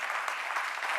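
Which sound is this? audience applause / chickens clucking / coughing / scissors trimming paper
audience applause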